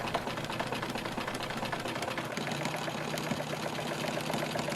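A sewing machine stitches denim in a fast, steady mechanical chatter, running continuously at close range with no voices.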